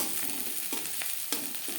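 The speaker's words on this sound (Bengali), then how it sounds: "পেঁয়াজ অবশ্যই লালচে করে ভেজে নেবেন" Onions sizzle and crackle steadily in hot oil, with soft scraping stirs at intervals, close and fairly quiet.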